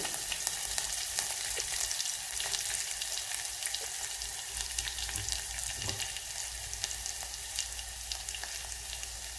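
Soup ingredients roast in a pan with a steady, hissing sizzle and faint crackles throughout, close and continuous with no talk.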